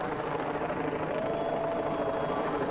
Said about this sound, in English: You can hear, most likely, the CPD helicopter that has been hovering just above us for the last 20 minutes or so